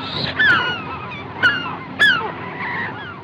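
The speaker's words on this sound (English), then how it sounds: "The birds. The birds!" Geese honk loudly and close by, three distinct nasal calls in quick succession over a steady outdoor background, with no talking.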